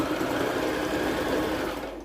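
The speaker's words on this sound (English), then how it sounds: "and then you just sew it" A sewing machine stitches fabric to an elastic band for a skirt, running steadily at close range with a rapid, even mechanical whir that winds down right at the end.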